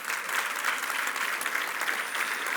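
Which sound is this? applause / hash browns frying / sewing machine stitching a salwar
applause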